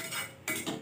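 Metal kadhai being handled in a home kitchen during puja preparations: a brief, faint metallic scrape and clink, close and alone, with no voices.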